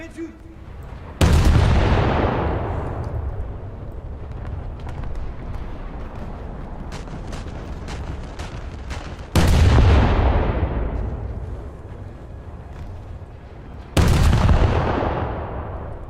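Heavy naval guns fire from a warship in a boat combat video game, three loud booming blasts a few seconds apart, each followed by a long rumbling decay over continuous engine and sea noise.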